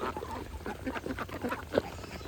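Ducks quack on a farm, giving a string of nasal calls at close range over a low background hum, with no speech.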